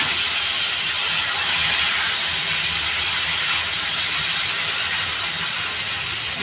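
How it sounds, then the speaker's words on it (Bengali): Curry poured into a hot pan gives a loud, dense, unbroken hiss of sizzling steam that holds steady throughout, close and filling the sound. "আমি এবারে তরকারিটা ঢেলে দেবো।"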